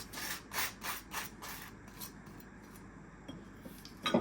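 A knife spreads butter across freshly popped toast for Vegemite toast, heard as a close, quiet rhythmic scraping in a series of strokes, then a brief clatter at the end.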